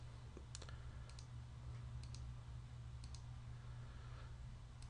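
A computer mouse clicks a few times on a desk while selecting a folder in iPhoto, with short, sharp clicks in small pairs over a steady low background hum.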